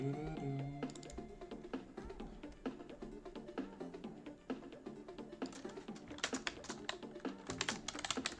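Rapid, uneven clatter of fingers typing on a computer keyboard close to a microphone, continuous keystrokes with occasional louder taps, without talk.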